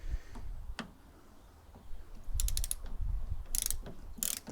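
Crosshead screw being undone on a Toyota Yaris door card, with quick ratcheting clicks and ticks in short bursts alongside light handling knocks, close by.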